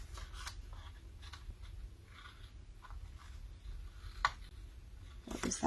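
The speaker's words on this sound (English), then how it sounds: "So take my shears, just get this trimmed." Shears trim through pattern paper in quiet, scattered snips with faint rustling, ending in a louder burst of paper handling close by.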